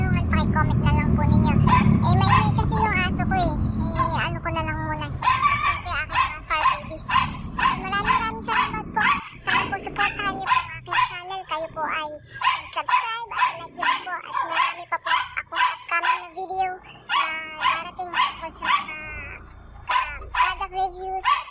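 A pet dog barks, yips and whimpers rapidly and almost nonstop close by for about twenty seconds, while a person talks at the same time.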